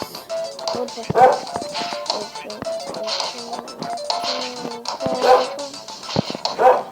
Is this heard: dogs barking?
yes